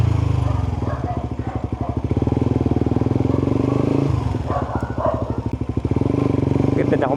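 A Suzuki GSX-R150 motorcycle engine, its clutch cable just replaced, runs close by with a throbbing idle and a few short revs, loud and steady throughout.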